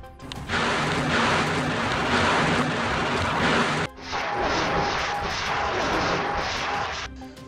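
Israeli fighter jets flying over Beirut's suburbs during airstrikes: a loud, sustained roaring rush that dips briefly midway, then surges again.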